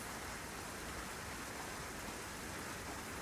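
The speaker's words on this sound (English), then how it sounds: "The cold rain was falling in the deserted city." Steady, dense rain falling in the deserted city of Honkai Impact 3rd, a constant hissing wash with no breaks, heard alone.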